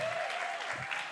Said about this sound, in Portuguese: Vamos aplaudir de pé, que merece, hein?